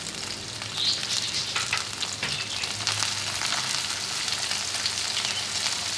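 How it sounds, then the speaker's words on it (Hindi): Chopped onions fry in ghee as they turn light brown for a mixed-lentil dal, giving a steady, close, bright hiss that holds evenly throughout with small crackles and no talking. "प्याज हमारे हल्की से ब्राउन हो रही है"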